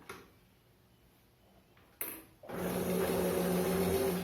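A sewing machine stitches a protective cloth face mask, starting after a quiet pause and a click, then running as a steady close whirring hum with no talking.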